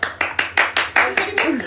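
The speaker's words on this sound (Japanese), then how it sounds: "拍手しすぎ、共感しすぎ" Hands clap nine times in a quick, steady rhythm, close and sharp, with voices faintly beneath.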